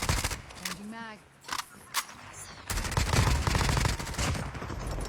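Rapid bursts of gunfire sound in a mobile shooter game, with repeated sharp cracks and sustained automatic fire that grows denser toward the end. Players talk and game sounds play in the background.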